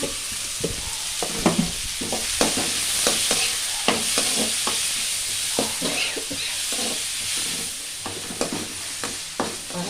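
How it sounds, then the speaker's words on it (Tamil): Onions sautéing in oil in a pan for a seafood feast, with a steady bright sizzle and repeated sharp scrapes and clacks of a spatula stirring, close and loud, with no talking. "அதிலே வெங்காயம் போட்டு கொஞ்சம் வதக்கிட்டு தக்காளி போடலாமா"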